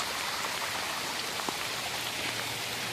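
Heavy summer rain falls steadily outdoors in Webster Groves, a dense, even hiss of drops on surfaces, loud and continuous with no voices.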